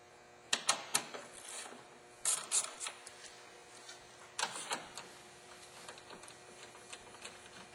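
Short metallic clicks and ratcheting taps come from a wrench removing two 10mm grille bolts on a Ford Focus, sounding in quiet, close clusters with gaps between them.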